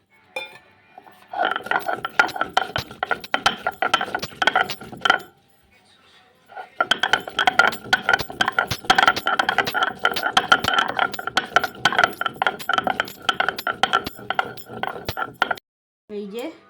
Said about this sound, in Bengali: গোটা গরম মশলা শিলনোড়াতে বেটে নেওয়া হচ্ছে এলাচ দারচিনি লবঙ্গ এগুলো একসঙ্গে করে বেটে নিচ্ছে মা